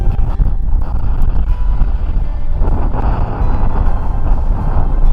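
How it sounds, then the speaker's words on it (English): Strong wind roars continuously and loudly across the microphone on a high moorland top near Ponden Reservoir in West Yorkshire, with gusty buffeting and no voices. "The wind is really strong up here though."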